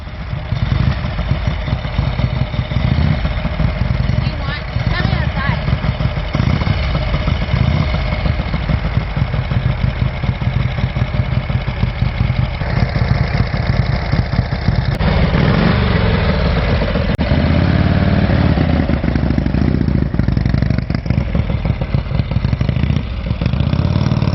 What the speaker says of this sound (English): This bike is a 1953 Harley, 74 cubic inch motor with a 4-speed transmission.